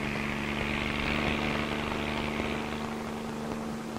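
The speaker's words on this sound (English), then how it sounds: "Helicopters bring small suppression crews close to an outbreak." A helicopter carrying a forest fire suppression crew, a steady, droning engine roar with a constant low hum throughout, loud and unbroken.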